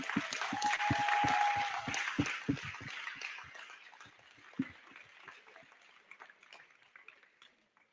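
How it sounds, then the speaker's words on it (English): Audience applause at a conference closing session, a burst of clapping from a crowd that is loud at first, then thins out into scattered claps as it fades. "Round of applause for submarine."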